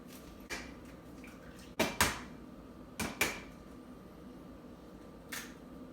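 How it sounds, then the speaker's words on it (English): Eggs cracked one after another against a bowl while making a quick breakfast, a few sharp close taps in pairs with soft cracking and brief pauses between. "So we're just going to crack these eggs,"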